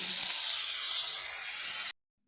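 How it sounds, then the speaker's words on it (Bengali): Salt-and-turmeric-coated eggplant pieces fry in hot mustard oil with a loud, continuous hiss that cuts off abruptly near the end. "প্রথমে সর্ষের তেলটা গরম করে নিয়েছি আর নুন হলুদ মাখানো বেগুন"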